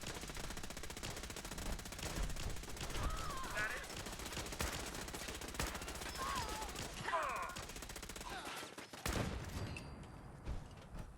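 Automatic gunfire from the game Fallout 4, played in Survival mode, rattles steadily as a dense, fairly distant-sounding volley throughout, with brief voice-like or effect sounds mixed in and a sharper blast near the end.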